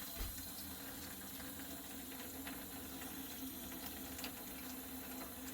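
Water is splashed and trickles over a snowblower tire inflated to about 21 psi to check for leaks around the rim, a steady close wash of liquid with no voices.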